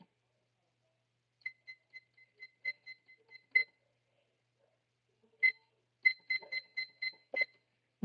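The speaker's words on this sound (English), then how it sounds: "we'll let that timer go for about 5 minutes" A kitchen timer being set for five minutes gives a quick series of sharp electronic beeps, each press a separate chirp, in two bursts with a pause between them. No one talks.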